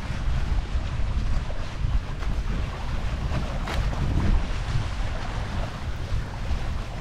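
Paraw outrigger sailboat under way off Boracay, heard as steady, loud wind buffeting close to the microphone over rushing water and the slap of waves, with no talk.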